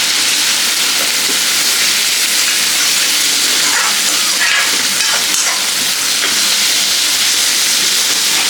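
Prawns frying in a pan with turmeric give a loud, continuous sizzle and hiss, steady and close, with faint stirring scrapes and no talking.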